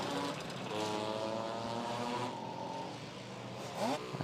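Two-stroke racing scooter with its rear exhaust can hanging off, pulling away onto a kart circuit during a six-hour endurance race, a buzzing engine drone rising and shifting in pitch at mid distance.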